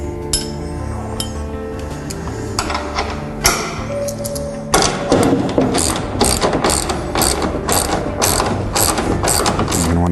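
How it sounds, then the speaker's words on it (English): A ratchet with a 1/2 inch socket tightens a bolt on a Tilt-Away Murphy wall bed, giving a close, loud run of rapid clicking strokes in regular bursts with metallic clinks, no talk. "This is where you're going to want a 1/2 inch socket with your ratchet."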